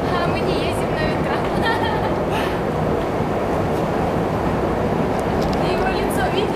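Moscow metro train riding, with a steady loud rumble and rattle of the carriage filling the whole stretch, people talking over the continuous noise.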